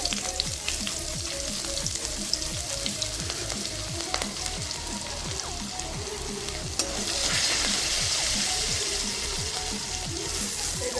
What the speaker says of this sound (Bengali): গরম তেলে দিয়ে দিচ্ছি একটা তেজপাতা, 2টো কাঁচা লঙ্কা দিচ্ছি।